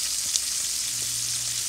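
Shrimp sizzle in a pan for Spanish garlic shrimp, a steady close hiss of frying with faint stirring, alone and without talk.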